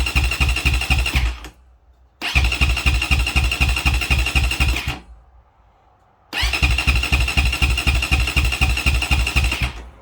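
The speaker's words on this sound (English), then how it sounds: "Just turn it over a few times, let that oil prime up back inside the motor" An SSR 250 motorcycle engine cranked over by the starter with the kill switch held, so it never fires. Three long bursts of rapid rhythmic churning, loud and close, are separated by short silences, with no talking.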